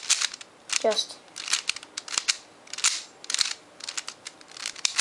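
A speed cube turned in quick bursts of snappy, clicky twists, close and fairly loud, with brief pauses between runs and a voice speaking briefly over it.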